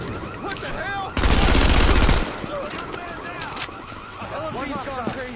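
Loud sustained automatic gunfire from a light machine gun in the video game The Division, a dense burst lasting about a second amid ongoing combat noise, with voices talking around it.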